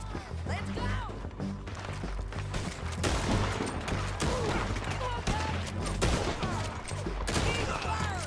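Gunfire in the video game Red Dead Redemption 2, dense rapid volleys of shots and crackling bursts layered throughout a chaotic firefight, loud and continuous, with voices shouting in the mix.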